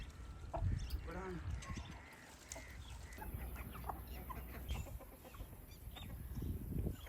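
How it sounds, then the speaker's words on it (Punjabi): Chickens and roosters clucking around a backyard coop where pigeons are also feeding, with brief cackles and calls rising over steady outdoor noise and people talking nearby. "ਕੁੱਕੜ ਹੁਣ ਉਧਰ ਭੱਜ ਗਏ"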